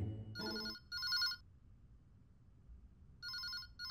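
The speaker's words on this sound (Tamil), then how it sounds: "உனக்கு தான் ஃபோன்" A telephone rings in short electronic double bursts, a bright warbling tone that sounds twice near the start and again after a pause, over a quiet room with a brief low noise at the very beginning.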